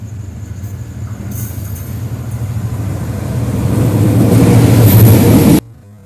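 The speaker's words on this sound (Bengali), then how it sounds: "এটা নীলসাগর এক্সপ্রেস ট্রেন" The Nilsagar Express, bound for Dhaka from Chilahati, passes by with a dense low rumble that grows steadily louder over several seconds, then cuts off abruptly near the end.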